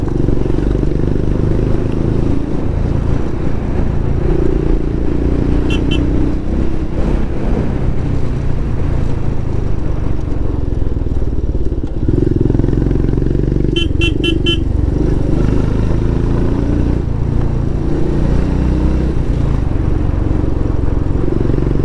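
A motorcycle rides along a road in Pokhara, Nepal, its engine a constant loud rumble with road and wind noise, and short beeps of a horn sounding twice.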